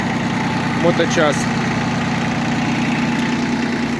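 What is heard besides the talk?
Yanmar FB15D Japanese tractor engine idling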